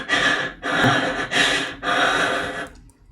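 Caleb in a video game breathing heavily in his sleep, four loud, breathy pants in a steady rhythm, close and alone, trailing off into quiet.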